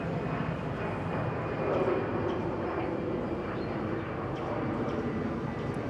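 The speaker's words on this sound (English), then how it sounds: "It's probably only appropriate that Cambodia Airways is departing now" Cambodia Airways airliner departing Bangkok Suvarnabhumi Airport, a steady distant jet engine roar that swells slightly midway, with no talk over it.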